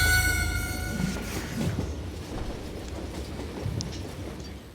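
A moving train in the video game Call of Juarez Gunslinger rumbles along with a low rolling clatter and faint high squeal, steady and fairly close, with no talking.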